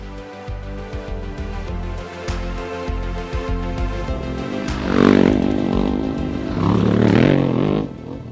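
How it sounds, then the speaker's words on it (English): A Yamaha Tenere 700 motorcycle engine accelerates, its exhaust note rising in two louder revving surges after a stretch of lower rumbling, heard close with no speech. "the T7 kind of makes it nice for you in the way that it accelerates"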